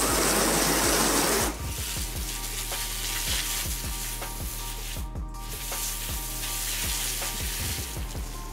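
A garden hose on a new spray setting showers water onto a surface treated with a ceramic boost spray. A dense, steady hiss shifts in tone early on, then continues with light spattering ticks.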